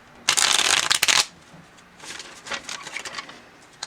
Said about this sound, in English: it shuffles quite easily because you can get a good hold of it